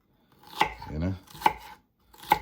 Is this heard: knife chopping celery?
yes